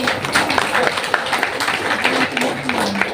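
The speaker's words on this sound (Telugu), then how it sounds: "గట్టిగా క్లాప్స్ కొట్టాలి" An audience claps loudly, scattered and uneven claps mixed with ongoing talking, fairly close.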